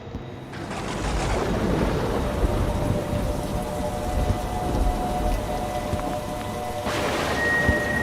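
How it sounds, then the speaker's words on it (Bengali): Heavy rain pours down in a steady, dense roar, with rumbles of thunder rising beneath it and a brighter surge of downpour near the end. "ঝড় এসে সমস্ত অরণ্যকে জাগিয়ে দিয়ে গেছে। এখন বৃষ্টি পড়ছে মুষলধারে।"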